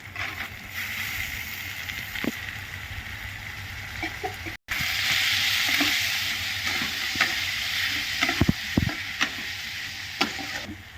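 Onion and tomato sizzle and fry in a pan for Bombil bhaji, with a steady hiss that swells louder halfway through and is broken by a few clinks of stirring.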